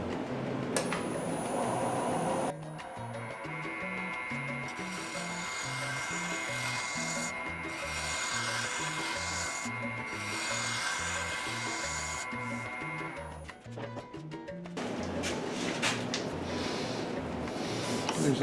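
Small wooden spindle spinning on a lathe at about 1,500 to 1,700 RPM, with a continuous scraping, rubbing cut of the tool that stops briefly near 2.5 and 13.5 seconds before resuming.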